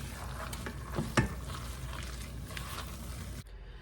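Chicken enchilada filling with half a cup of melting cheddar cooks in a pan, giving a steady close sizzle with a few louder pops and stirs before it cuts off near the end.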